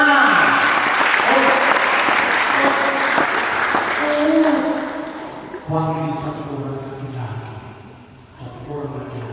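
Students at a school retreat for seventh and eighth graders break into loud, close applause that thins out after several seconds, giving way to a speaking voice over lingering scattered claps.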